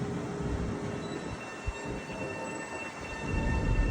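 A train pulls into Harlem 125 station on a freezing cold night, with a continuous low rumble of rolling wheels, faint metallic squeals and a brief knock, and the rumble swells louder toward the end as the train draws near.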